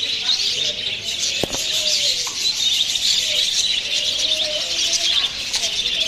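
Constant high-pitched chirping and twittering from many small birds, budgerigars among them, with a few low coos and a brief flutter of wings.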